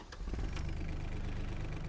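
A small truck engine in the Farming Simulator 25 video game runs steadily up close for about two seconds, a low droning hum with a slight rise near the start.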